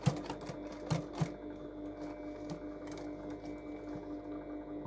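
A sewing machine stitches a zipper into trousers, with a few sharp taps and clicks at the start, then a quieter, even mechanical run close by.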